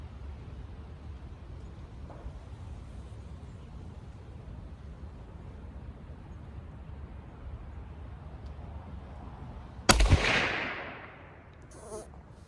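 A Remington No. 5 rolling block rifle chambered in 7mm Mauser fires a single loud sharp shot, with a quick decaying echo after a stretch of quiet outdoor background.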